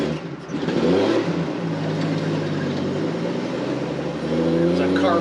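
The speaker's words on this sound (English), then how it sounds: "so the truck goes through the gears just like it should" A 1976 Jeep CJ5 with a 258 cubic inch inline-six engine runs steadily and loudly on the road, its engine tone climbing and settling as it works through the gears.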